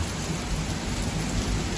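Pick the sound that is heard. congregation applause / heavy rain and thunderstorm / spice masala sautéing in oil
heavy rain and thunderstorm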